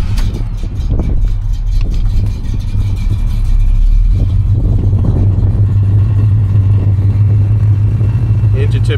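An older car with a sticky ignition starts up and revs, the engine droning steadily and swelling in pitch, while a person talks over it near the microphone.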